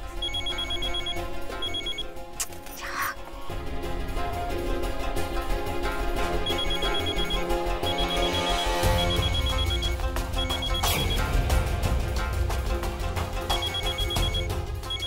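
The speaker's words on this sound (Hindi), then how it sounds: "फोन उठाओ।" A telephone rings repeatedly in regular bursts over a loud musical background in the Hindi TV serial Agnifera, the electronic trill recurring throughout.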